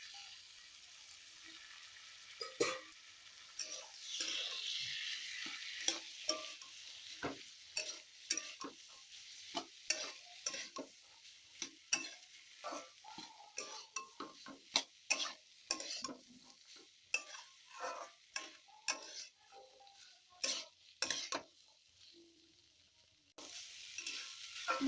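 Boiled peas stirred into a pan of cooked-down spices for ghugni, a soft background sizzle broken by frequent scraping spoon strokes and clacks against the pan, near and fairly quiet.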